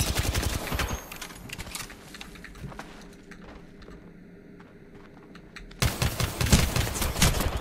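Apex Legends gunfire, with rapid bursts at the start, sparse distant shots through a quieter middle, and a return to dense, loud firing near the end.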